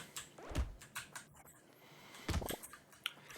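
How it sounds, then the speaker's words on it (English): Faint, irregular computer keyboard typing during Brotato gameplay, with soft clicks and clacks coming in small bursts at a distance, and no voices. "you might hear a little bit of keyboard noise in the background"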